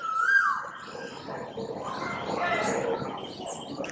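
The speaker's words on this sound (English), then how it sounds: "Can you hear the birds?" Birds chirping and cooing outdoors in the early morning around 7:30, with bright calls rising early on and a busy, continuous layer of tweets over a steady background hum.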